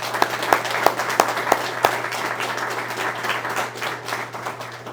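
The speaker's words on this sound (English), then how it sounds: "let's give them a round of applause." At a venue hosting an Alabama governor's broadband funding announcement, an audience applauds, opening with several loud, evenly spaced claps near the microphone over a steady crowd clapping that gradually softens.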